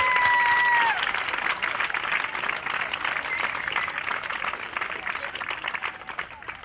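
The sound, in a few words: audience applause at tennis tournament opening ceremony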